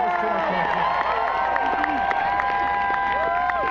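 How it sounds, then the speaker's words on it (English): A large crowd at an outdoor political rally in Aurora, Colorado cheers and applauds steadily in a dense roar of clapping and whoops, with an amplified voice over the noise. "Can everybody please give Mike a big round of applause"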